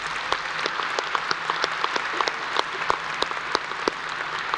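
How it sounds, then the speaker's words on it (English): Audience applause at a high school graduation ceremony: steady, dense clapping from a large crowd, sustained at even loudness throughout with no voices over it. "So let's give them another round of applause."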